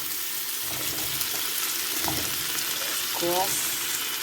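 Squash for pinakbet dropping into a hot frying pan, giving a steady sizzle and frying hiss with a few brief clatters and stirring sounds, close and moderately loud, with no talking.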